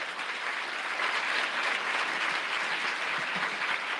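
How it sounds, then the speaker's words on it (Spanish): A church congregation applauds during a sermon, a steady, dense wash of clapping throughout, moderately distant and even in loudness. "Si quiere aplaudirle, hágalo fuerte si es para él."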